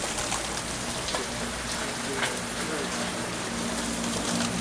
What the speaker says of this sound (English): There's so much like hail everywhere